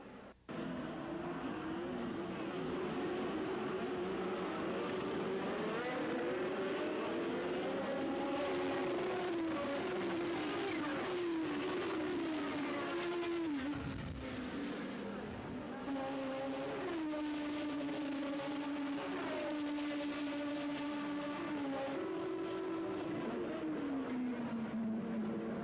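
Formula One race cars at the start of a race make a continuous, loud engine roar, with many layered whines rising and falling as the cars accelerate and shift gears, sustained throughout without talk.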